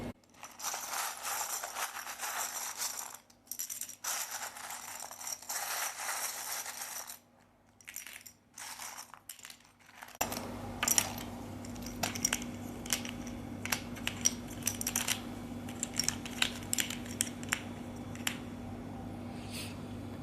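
Tarot cards being shuffled by hand during a card reading: soft papery riffles and clicks at close range, broken by short pauses, with a steady low hum under the second half.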